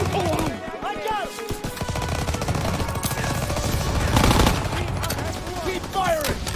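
Rapid bursts of rifle and machine-gun fire in the World War II shooter Call of Duty WWII, dense overlapping shots and battle noise with shouted voices mixed in.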